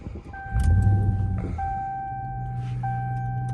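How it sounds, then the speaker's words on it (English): A 2022 Ram TRX pickup engine cranks and catches with a loud low rumble, then settles into a steady idle while a two-tone electronic chime repeats in the cabin. "So I'm gonna start up the truck."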